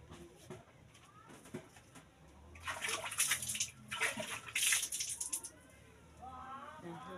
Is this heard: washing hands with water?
yes